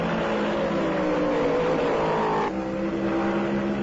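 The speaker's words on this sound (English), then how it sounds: "Richard Petty takes the lead as they dive into the first turn." Stock cars race at the start of the 1974 Southern 500, a steady massed engine roar with a brief rising pitch sweep, fairly distant and unbroken throughout.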